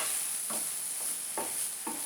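Spaghetti sauce simmering in a pan, a steady bright sizzle under three short scraping stirs of a spoon, close up, with no voices.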